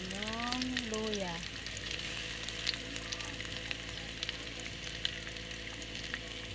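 Ginger sliced thin goes into a hot pan while banak fish cooks for sarsado, giving a steady broad sizzle and frying hiss throughout, with a short voice heard briefly at the start.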